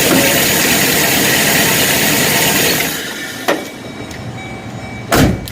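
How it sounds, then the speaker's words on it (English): A 2006 Chevrolet Express 2500 van's 6.0L V8 idles with a steady, loud broadband drone, then shuts off partway, leaving quieter background and a couple of sharp clunks. "our engine's been idling about 15 minutes"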